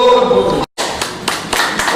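Applause from the audience at a community association meeting, brief bursts of clapping with a sharp dropout partway through, mixed with talk.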